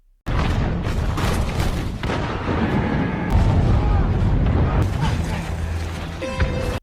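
Cannon artillery fire in a war film battle scene, a dense continuous roar of booming blasts and crackling gunfire that starts abruptly and stays loud throughout, with a sharper burst near the end.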